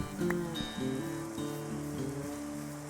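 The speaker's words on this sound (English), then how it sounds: "It is raining." Rain falls steadily in the Minecraft video game, a soft continuous patter sitting under a louder tonal in-game background throughout.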